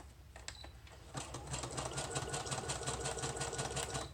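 A sewing machine stitches journaling cards for a junk journal. After a few scattered clicks it settles into steady, rapid stitching at moderate loudness, close by, with no talking.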